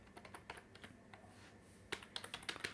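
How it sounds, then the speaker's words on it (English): Typing on a computer keyboard while drafting a question paper in MS Word, a quiet run of soft key clicks that turns into a quicker, louder burst of keystrokes near the end. "if I start typing here something"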